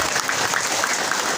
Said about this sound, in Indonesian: Tepuk tangan buat polisi.